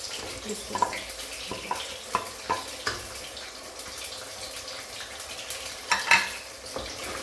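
Fenugreek chicken stir-fried in a pan, low sizzling with repeated spatula scrapes and clinks at an uneven rhythm, close, quiet, with a faint watery sound.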